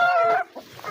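Desi roosters and chickens at a poultry farm give a short, loud, tonal call up close, followed by softer, scattered clucks.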